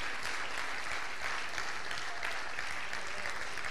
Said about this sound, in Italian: Un grande applauso alla memoria di Teofilo Sansom.